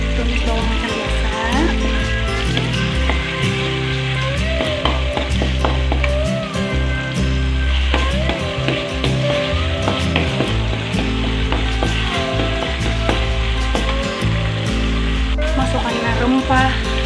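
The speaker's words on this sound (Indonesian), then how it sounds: "minyak sedikit saja, sebab nih perlu ada lemak-lemak. Dia akan sedikit-sedikit di minyak. Tumis bawang macam biasa." Shallots, garlic and ginger sauté in a little oil for a beef tripe soup, a continuous close sizzle and spatter with stirring scrapes, mixed under a loud constant hum and other kitchen noise.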